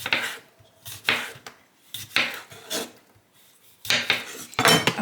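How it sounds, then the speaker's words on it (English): A slightly dull kitchen knife slices vegetables thinly for bibimbap, making a run of close, fairly loud strokes that scrape and tap against a board at an uneven pace, with short gaps between them. "My knife is a little dull, guys, but I'm gonna cut this thinly."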